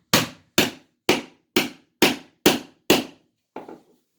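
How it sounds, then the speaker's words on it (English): Seven sharp, evenly spaced hammer-and-chisel knocks ring out, chipping pieces off a hardwood floor during a repair, followed by a softer double tap; each strike is loud and close with quick decay. "We're just using a hammer and chisel to knock those pieces off."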